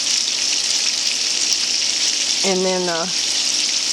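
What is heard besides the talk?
sausage browning in a frying pan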